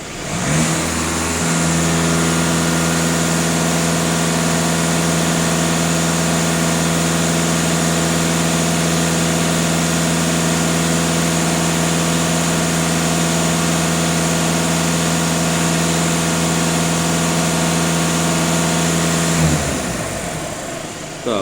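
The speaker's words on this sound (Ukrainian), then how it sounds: "Даю газ в пол" A 2.0 TDI diesel engine in a VW Passat held at full throttle, a loud, steady drone that rises quickly, holds for many seconds, then drops away.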